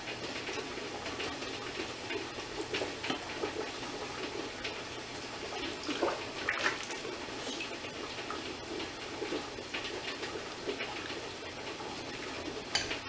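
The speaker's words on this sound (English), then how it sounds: "And then I get my boiling hot water, start filling the jars." Boiling hot water pours steadily into canning jars packed with greens, a continuous close splashing rush with faint clinks, no talking.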